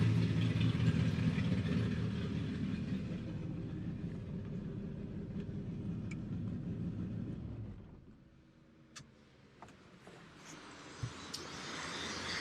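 An LS V8 with nitrous in a Mustang idles with a deep, even rumble for several seconds, then drops away to a much quieter background with scattered small knocks.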